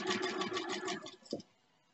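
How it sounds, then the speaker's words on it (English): A sewing machine stitches in the ditch on a bonnet with a short run of quick, rhythmic needle pulses, ending in one last thump before it goes quiet. "I just stitch in the ditch."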